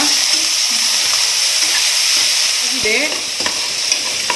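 A spoonful of ginger paste sizzling and spitting in hot oil in a pan for fish-head sambar, a loud, close, continuous fry with a few scrapes of a stirring spoon and no talking.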